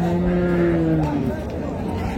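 At a rural cattle market in Dinajpur, a dairy cow or calf gives one long, loud, low moo that bends downward and fades, against a busy background of crowd murmur and nearby talking.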